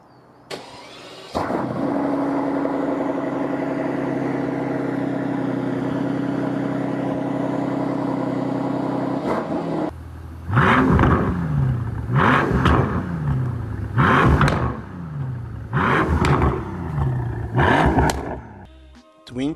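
A twin-turbo 6-litre V12 in a Mercedes C217 S-Class coupe idles with a steady loud drone, then revs hard in a run of four or five sharp, rising blips that fall back between each, close and alone.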